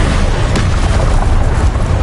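A Confringo spell explosion from Hogwarts Legacy booms loudly and close, a dense rumbling blast that fills the short clip with sustained low-end noise.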